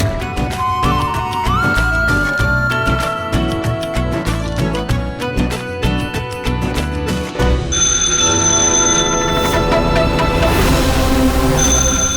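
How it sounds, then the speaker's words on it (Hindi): A telephone bell rings loudly in repeated bursts over a music score in a Hindi television drama scene, with no speech. "ये मूसा भाई का टेलीफोन हो सकता है।"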